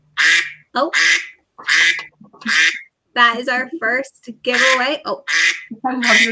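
A duck quack sound effect, used as a live-stream giveaway timer during a product launch, sounds repeatedly in short bursts, with people talking over and between the quacks.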